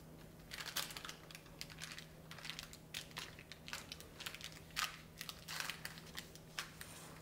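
A peanut butter power bar mixture is pressed into a pan by hand, giving soft irregular sticky crunches and pats in a quiet kitchen.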